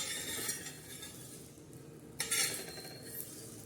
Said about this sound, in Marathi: तर आता हे सगळं सुकट हे बघा असं काढून घेते